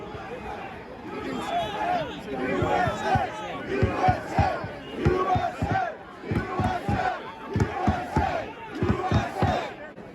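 A dense crowd outside the U.S. Capitol shouting and chanting in rhythmic bursts, close and loud, with overlapping voices and yells rising and falling in waves.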